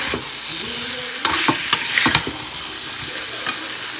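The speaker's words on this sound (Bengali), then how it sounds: "অনেকদিন পর সোয়াবিন রান্না করছি" Soybean chunks are stirred and fried in a pan, making a steady sizzle broken by several sharp scraping strokes of the spoon against the metal, close up with no talking.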